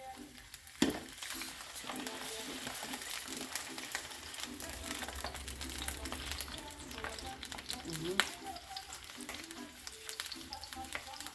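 Food sizzling and frying in a non-stick pan, a steady crackling hiss with a few clinks of a utensil stirring, fairly close and continuous with no talk.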